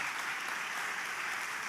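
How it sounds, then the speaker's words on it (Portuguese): A church or lecture audience applauds to welcome a pastor onto the stage, a dense, steady wash of clapping that holds evenly throughout without any voices over it. "Queria que você recebesse o pastor Josué com um forte aplauso para Jesus."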